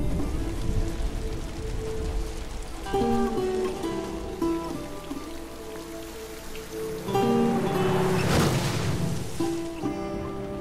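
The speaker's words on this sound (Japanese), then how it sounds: "雨すげえリアルだね" Steady rain pours in The Last of Us, a dense hiss of drops on surfaces that runs throughout, with soft tonal music underneath and a brief swell of louder rain near the end.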